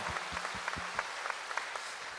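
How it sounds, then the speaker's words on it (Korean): A church congregation claps during a Sunday evening worship service, a rhythmic, even beat of hands striking together in unison, moderately loud and steady, with no speech over it. "박수로 한번 축하하겠습니다."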